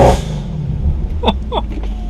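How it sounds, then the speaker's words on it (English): A Mercedes C63 AMG engine rumbles loudly at close range, with a deep, steady roar and a few brief higher-pitched chirps partway through. No one speaks. "listen to the rev of this car."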